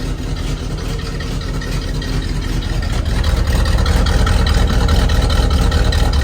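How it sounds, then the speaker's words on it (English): A 1978 K30 truck engine settles into a steady idle after cranking, a continuous low rumble that grows slightly louder partway through and runs alone without talk. "Got her idling again."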